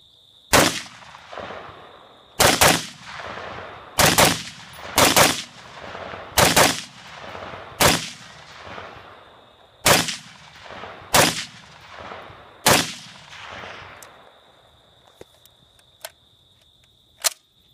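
A Beretta ARX 100 rifle fires about ten loud, sharp shots at a steady, unhurried pace on a shooting range, each report followed by a short echo, with a steady high whine in the background.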